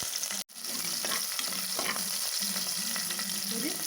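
Chopped green chillies and crushed garlic fry in a pan with a dense, close sizzle, a brief drop near the start, then steady crackling with intermittent scrapes of stirring.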